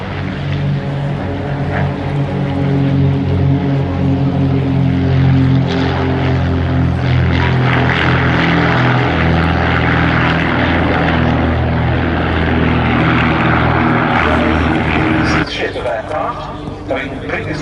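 Team Raven's light propeller aircraft run in together in Delta formation at the Duxford air show, a loud layered engine drone building and holding, with a commentator speaking over it.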